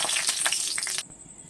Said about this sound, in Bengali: তেল গরম হয়ে গেছে, প্রথমে শুকনো লঙ্কাটা ভেজে নেব।